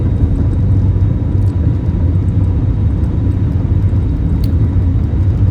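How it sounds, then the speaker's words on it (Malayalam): A steady, loud low roar of jet engines as an airplane takes off from Calicut airport fills the whole stretch, constant and close, with no voices over it. "അങ്ങനെ നമ്മുടെ ഫ്ലൈറ്റ് ഭൂമിയിൽ നിന്ന് ആകാശത്തിലേക്ക് പറന്നു പോവുകയാണ്"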